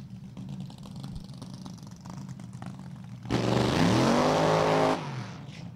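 A drag racing car launches down the strip at Virginia Motorsports Park, a burbling idle giving way to a sudden very loud roar that climbs in pitch for about two seconds before cutting off.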